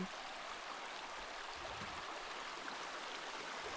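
A small stream flows steadily through a mountain valley in the Canadian Rockies, giving a soft, even hiss of running water with no talk over it.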